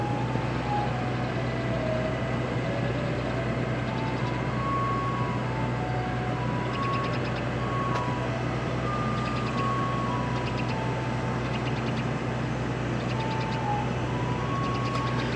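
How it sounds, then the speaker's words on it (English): Cowabunga ice cream truck passing a house, its tinkling melody repeating at a moderate distance over a steady engine drone that holds throughout. "Because I know you guys like ice cream truck videos,"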